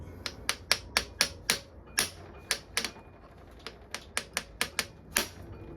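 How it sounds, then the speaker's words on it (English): Impact driver hammering at bolts during a Honda CB400 Four classic motorcycle restoration, a series of sharp, close clicking impacts in quick bursts with a short pause midway, no talk. "impact driver on these top two"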